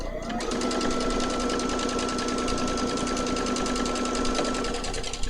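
A domestic sewing machine runs steadily at speed while free-motion quilting fabric, a fast continuous mechanical stitching rattle with a constant motor hum, loud and unbroken with no talking.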